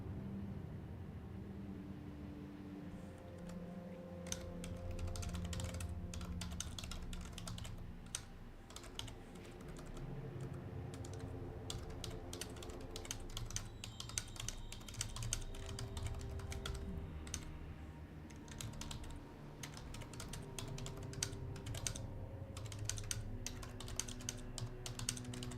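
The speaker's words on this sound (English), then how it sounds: "let me finish typing up a message here real quick" Rapid keystrokes on a computer keyboard as a message is typed, steady clicking and tapping running throughout with brief pauses, over a continuous low background hum of game music.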